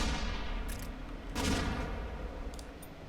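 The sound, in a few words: Skull Shot weapon firing in video game ShellShock Live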